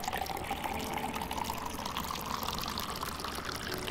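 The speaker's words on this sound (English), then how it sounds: "And we pour in the milk." Milk poured in a sim cooking game while making boba black tea, a steady continuous liquid pouring and filling sound running evenly throughout, fairly loud with no talk over it.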